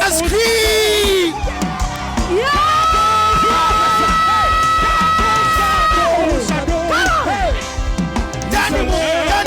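A large crowd at a charismatic church gathering on a university campus screams and whoops at full volume, a continuous roar of yells and shrieks with sustained high-pitched voices.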